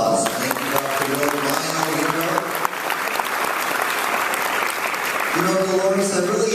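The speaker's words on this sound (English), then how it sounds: "Let's give them again a round of applause." Sustained applause from the audience at an Orange County summit, a full even roar of clapping that lasts throughout, while someone speaks over it at the start and again near the end.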